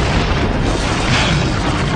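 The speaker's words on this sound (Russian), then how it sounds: "Пушка выстреливала зарядом энергии, который через несколько секунд создавал взрыв, разрушающий все в радиусе нескольких метров." A loud, dense blast from an energy grenade launcher's charge exploding in the video game Turok: one sustained roaring boom that fills the whole moment, with no talk.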